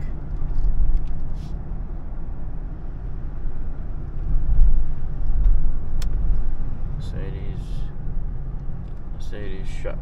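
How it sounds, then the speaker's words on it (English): Morning rush hour traffic heard from inside a car gives a steady low rumble of engine and road noise with slight surges, while a voice speaks briefly in the background. "Just got caught in morning traffic."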